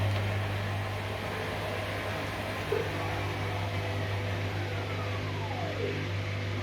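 A Vestel CMI118321 washing machine spins at 600 rpm on a quick wash, giving steady mechanical whirring with a strong low hum and broadband rush, continuous and fairly loud throughout.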